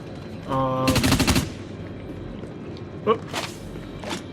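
Automatic weapon fire in the shooter Dust 514 during faction warfare, one short rapid burst of loud shots followed by a couple of fainter single reports and scattered game noise.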